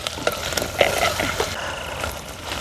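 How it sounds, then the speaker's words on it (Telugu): Ginger-garlic is stirred in a pot of Bhoti (goat tripe) curry cooking outdoors in a forest, a steady close sizzle broken by scraping strokes of the spoon. "ఇక్కడ నేనే కలుపుతున్నది."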